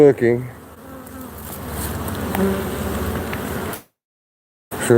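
Dense, steady droning buzz of honey bees swarming around a hive, loud and close, with a brief voice at the start and a short silent gap near the end.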